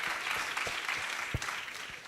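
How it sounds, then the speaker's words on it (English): Audience applause and hand clapping at a business hub event, heard fairly faintly as a continuous patter with a few distinct claps scattered through it, no one speaking. "Can we just give him a big hand clap?"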